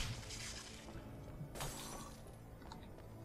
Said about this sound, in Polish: Dokładnie tak, jakiś dźwięk tłuczonej butelki